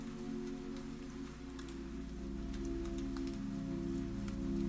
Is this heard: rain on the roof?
yes